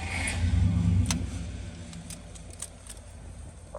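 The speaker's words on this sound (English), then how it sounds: "Love how nice and easy this car starts." A 1962 Pontiac Catalina convertible with a factory 389 Tri-Power V8 fires up, a loud low rumble up front settling into a steadier idle with a few sharp clicks and knocks.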